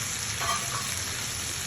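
Prawns frying in a nonstick pan, a steady close sizzle with a brief stirring scrape in the middle, no voices.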